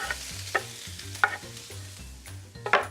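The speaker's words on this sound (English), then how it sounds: "Pan's all heated up, ready to sizzle. And we'll take the onion, put that in first." Steady frying sizzle of onion in a hot pan, with several sharp clatters of a utensil stirring, fairly close, no voices.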